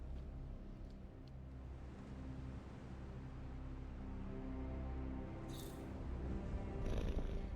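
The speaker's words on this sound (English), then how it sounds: "Why did I hear the cat?" A cat purrs steadily in the video game Midnight Suns, a low continuous rumble that holds close and even throughout, with a brief faint chime near the end.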